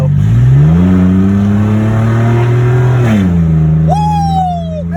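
A car in second gear revs hard, its engine pitch climbing and holding steady before dropping back, loud and close, with a sharp high squeal sliding in near the end.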